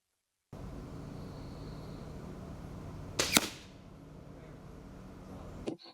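A crossbow fires a field-point bolt into a foam target, giving a single sharp, loud crack against a low steady outdoor hum, followed by a fainter click near the end.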